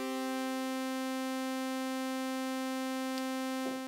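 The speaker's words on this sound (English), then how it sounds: "Just a basic sawtooth wave." A steady, buzzy synthesizer sawtooth wave from the ES2 synth, bright with a rich harmonic edge, holds one unchanging pitch for several seconds, then a short click sounds near the end.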